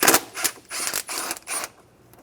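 A ratchet wrench clicks in short bursts while backing out a 10mm bolt on a Toyota Tundra, three or four close, loud runs of rapid clicking followed by a pause.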